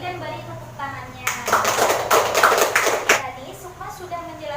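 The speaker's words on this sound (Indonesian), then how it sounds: "kepada semua dipersilakan duduk kembali dan beri tepuk tangannya" A school class of students applauds together in a room during a teaching session, a burst of clapping about two seconds long rising over a voice talking before and after.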